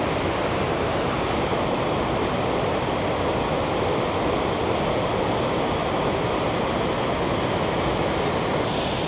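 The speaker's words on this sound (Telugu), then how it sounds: "సో ఆడ నుంచి బండ కిందికి కట్ అయిపోయింది కాబట్టి ఇక్కడ వాటర్ ఫాల్స్ ఏర్పడ్డాయి అన్నమాట" Kuntala waterfall in Telangana pours down a rock cut in a steady, dense roar of rushing water, loud and close, with no break across the whole stretch and no voices.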